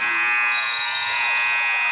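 Basketball end-of-quarter buzzer at a boys' high school district final: a steady, loud, piercing electronic tone holding for about two seconds over faint gym crowd noise.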